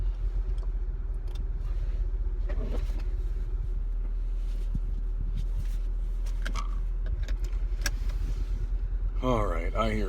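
A Jeep Grand Cherokee idles with its engine running steadily and a blower fan whirring inside the cabin, a constant low hum under occasional talk and small clicks.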